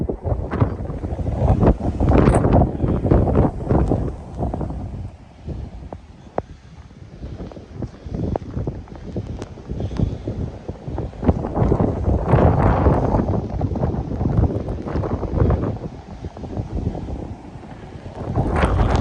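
Blizzard wind in Regina in November buffets the microphone with heavy, roaring gusts, loud and close, rising and falling in waves throughout with no voices heard.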